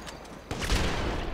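Automatic weapon fire in GTA 5 Online, a short sharp burst opening after a brief quiet lead-in and ringing out loud and close for under a second.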